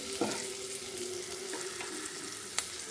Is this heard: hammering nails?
no